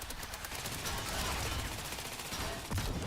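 Tank cannon shots from the Trailmakers vehicle combat game, a steady dense barrage of rapid booming gunfire throughout, loud and close, with a heavier impact near the end.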